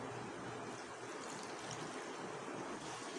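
Water pours into a pan of potatoes while cooking achari aloo, a steady rushing, splashing flow that stays even and fairly loud for several seconds with no talk.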